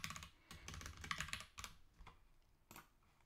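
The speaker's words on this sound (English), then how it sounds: "And then you can just start typing." Quick typing on a computer keyboard while setting up a digital journal, a close, quiet run of key clicks in uneven bursts with short pauses between them.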